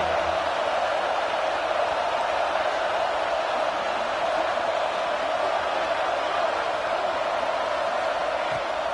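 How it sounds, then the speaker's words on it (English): A dense, steady roar of a large college football stadium crowd in an LSU vs Florida video game, constant and unbroken throughout, with no distinct voices standing out. "This crowd bringing the energy and noise early."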